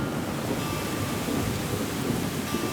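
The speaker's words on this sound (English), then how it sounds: "Something I'm seeing way too much of, violent storms." A violent summer thunderstorm in Toronto pours heavy rain in a loud, steady roar, with low thunder rumbling underneath throughout and no voices.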